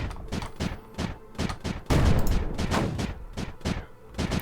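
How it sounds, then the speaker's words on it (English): Missiles striking targets in Creeper World 4, a rapid irregular string of sharp explosive cracks and booms, loud and close, one heavier blast near the middle. "The joyous sound of missiles destroying their targets."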